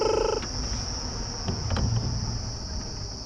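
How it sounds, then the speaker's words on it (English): A steady, high-pitched drone of cicadas fills the air continuously on an evening safari drive, with a brief tonal chirp at the start and soft background rumble. "Listen to all the cicadas."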